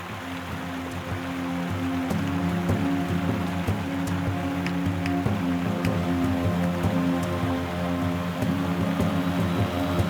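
A river runs over a stony jade-bearing riverbed in New Zealand, a steady broadband rush of flowing water with fine splashing and trickling detail, continuous and close.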